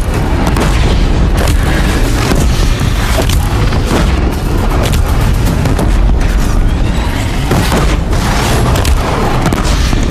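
Loud, rumbling bomb explosions in the video game Horizon Zero Dawn, with heavy booms and blasts crowding together for the whole stretch and almost no pause between them.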